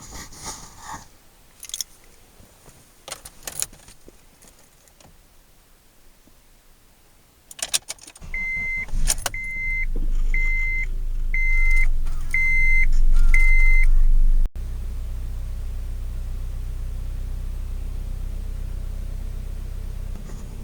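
A Honda CR-V cranks and fires after key jangles and a series of six chime beeps, then settles into a steady, loud idle close to the microphone.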